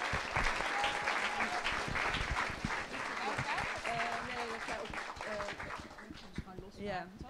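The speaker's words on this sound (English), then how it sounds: "Give them one more round of applause as they take the stage." An audience applauds as speakers take the stage at a podcast event, a steady wash of clapping heard from within the room, with voices talking over it throughout.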